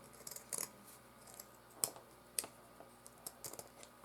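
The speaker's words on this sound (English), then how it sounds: "fold it in half, cut from the folded edge to the open edge." Scissors snip through folded material for a heart wreath, making a series of sharp, close cuts spaced irregularly, with a few quick snips in a row and no voices.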